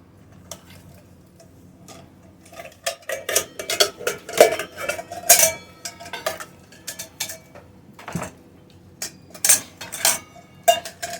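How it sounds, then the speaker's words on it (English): Metal mess kit pots, pans and a measuring cup clatter and clink as they are handled and set aside, with irregular close-up knocks and scrapes and a few quiet pauses between them. "So for this, I'll need all of my pots and pans, as well as one measuring cup."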